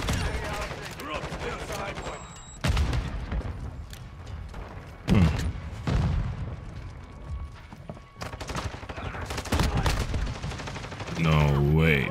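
Pistol gunfire in Call of Duty Modern Warfare 2 on Xbox, sharp shots cracking in quick bursts and scattered single reports through the whole stretch, with game sounds filling the gaps.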